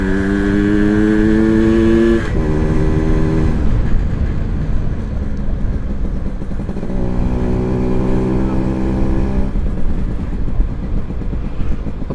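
Old Yamaha V80 two-stroke motorcycle riding along a road, its engine droning steadily and shifting pitch as it changes speed, close and loud throughout with wind noise.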